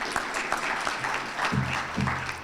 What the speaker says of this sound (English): I'd also like to ask you to join me in giving another round of applause for our January 2023 intern class